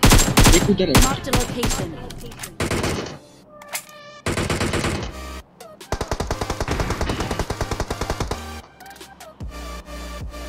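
A DP-28 light machine gun fires in PUBG Mobile, with loud, fast bursts of automatic shots broken by short pauses, plus a long sustained volley and occasional game effects. A player speaks briefly over it.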